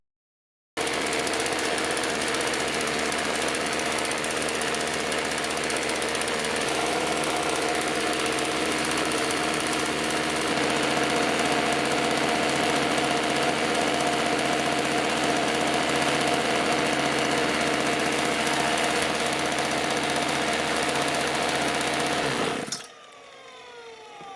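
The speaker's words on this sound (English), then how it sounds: "I adjusted the carburetor's idling screw to try and maintain a constant RPM and therefore voltage." A small apple-powered engine idles at a steady RPM, its carburetor idle screw adjusted, giving a loud, close, even mechanical chatter and hum that runs unbroken for over twenty seconds before cutting off abruptly.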